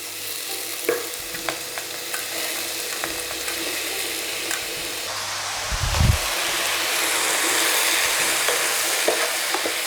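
Finely cut vegetables searing in a hot pan, with a steady sizzle and spoon stirring scrapes, one louder clatter midway, moderately close.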